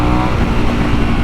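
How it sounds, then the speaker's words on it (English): A Harley-Davidson Sportster S with a Revolution engine accelerates under a loud, steady engine roar, heard up close while riding, with no talk over it. "you could feel literally the Revolution engine just pick up and go"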